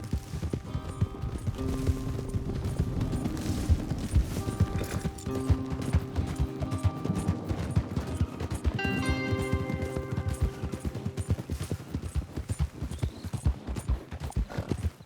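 Steady, rapid hoofbeats of galloping horses pound on continuously beneath a layer of game music in Red Dead Redemption 2.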